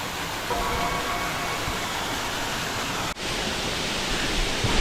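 The fourth tier of Krok I Dok waterfall gives off a steady, close, full-bodied roar of falling water that continues evenly without any talk.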